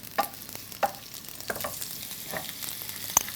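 Chopped onion sizzles in hot oil in a pan, a soft, steady frying hiss with occasional faint crackles and pops, low in level and with no talking.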